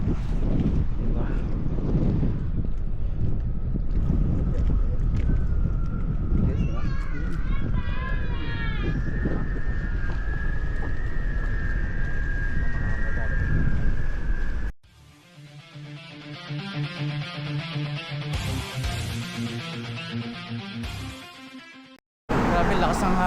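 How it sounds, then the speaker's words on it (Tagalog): Strong wind buffets the microphone outdoors in New Zealand, a loud, continuous roaring rumble. A person talks over it at times, and the sound cuts out abruptly near the end. "Grabe lakas ng hangin."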